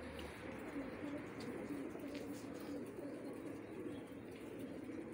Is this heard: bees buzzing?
no